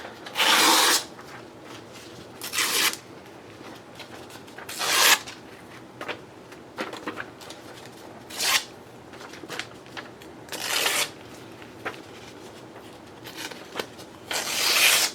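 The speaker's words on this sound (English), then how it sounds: "we're gonna have to do another crumpling" Paper crumpled by hand while making a Christmas journal cover gives short, crackly bursts every couple of seconds, close up and moderately faint between quiet gaps.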